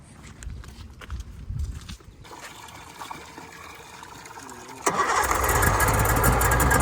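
An outboard boat engine with freshly cleaned carburetors cranks and catches, settling into a loud, steady running roar after a few seconds of quieter turning over, with water trickling nearby.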